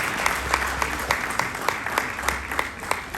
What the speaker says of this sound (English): I think we need to give a round of applause for Her Excellency